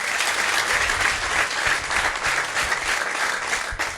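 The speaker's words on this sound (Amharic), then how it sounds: "አጨብጭቡላችሁ።" A church congregation bursts into steady, dense applause that holds at an even loudness for the full four seconds, a continuous wash of many hands clapping together.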